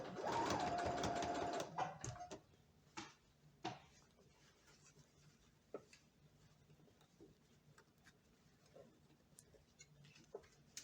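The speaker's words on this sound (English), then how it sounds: "I went on the sewing machine" A sewing machine stitching a cuff hem whirs loudly for about two seconds, then stops, leaving faint scattered clicks and taps in a quiet room.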